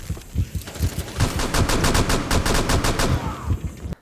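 Automatic gunfire from the operator Jaeger in Rainbow Six Siege: a sustained burst of rapid, evenly spaced shots, loud and close, rattles for about two seconds over background game noise, then fades.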